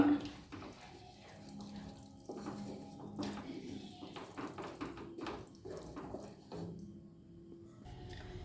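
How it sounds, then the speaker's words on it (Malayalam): Strained melted jaggery syrup pours into a pot of sesame payasam with a soft, continuous liquid trickle and splashing, close and quiet, with a few faint clinks. "കൂട്ടുകാരെ ഇനി ഞാനിതിലേക്ക് ശർക്കര പാടി കാച്ചി വെച്ചത് അതിലേക്ക് അരിച്ചൊഴിക്കുകയാണ്"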